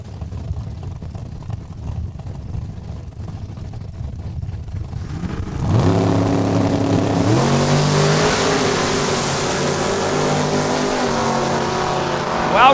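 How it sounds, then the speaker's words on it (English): Drag racing cars at Saskatchewan International Raceway, a '76 Duster and the Pink Panther Cuda, launch off the line with a sudden surge of loud roaring engines that climbs through rising revs and holds strong to the end. "She'll get the time slip with Floyd Scribner. That's right, the Pink Panther Cuda out of Saskatoon"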